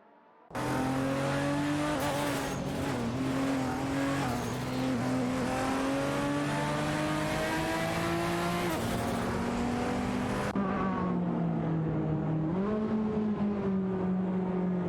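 Race cars in a racing video game roar close by, their engines rising and falling in pitch as they accelerate and jostle for position. A sharp gear shift cuts in partway through, and there is no talking.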